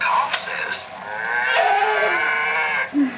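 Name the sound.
cow mooing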